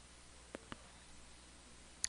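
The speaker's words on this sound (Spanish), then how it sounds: "Ahora le voy a dar clic acá en el check y listo" Two faint computer mouse clicks land close together in a quiet room, followed by a third, sharper click a moment later, all isolated against low background hiss.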